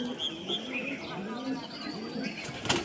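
Punjabi green-eyed pigeon cooing in soft, wavering calls, close by, with people talking over it and a brief rustle near the end.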